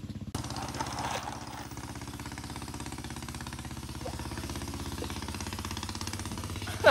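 A boat engine chugs past with a steady, low, rumbling drone that holds close and constant throughout.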